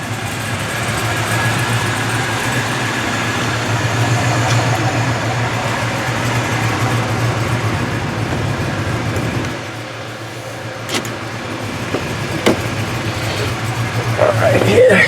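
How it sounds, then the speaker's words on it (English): A 1996 Impala SS with a 383 engine idles with a steady low rumble, while a few sharp metallic ticks from a loose exhaust shield break through; a voice talks over the engine. "Sounds like my exhaust shield is rattling a little bit there."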